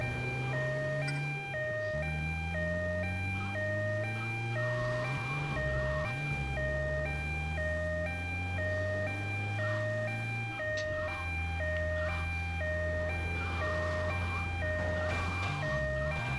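A looping electronic siren tone from an ambulance in GTA Vice City Stories cycles continuously alongside a low droning engine, steady and fairly loud throughout.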